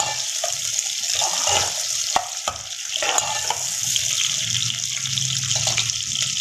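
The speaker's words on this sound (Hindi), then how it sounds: "अब हम इसमें प्याज डाल देंगे। प्याज को फ्राई कर लेंगे।" Sliced onions frying in a pan for aloo paratha, a steady close sizzle with stirring scrapes and a few sharp clicks, no talk.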